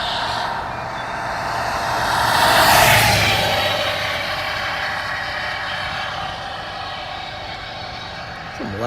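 Loud tires roar from a vehicle passing on a road near Colby, Kansas during a supercell storm chase, a broad rushing noise that swells to a peak and then fades into a steady rumble.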